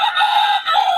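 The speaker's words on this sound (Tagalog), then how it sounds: "Ayan, mga manok niya." A rooster crows loudly and close by on a farm in Pangasinan, a single sustained call lasting about a second with a brief break partway through.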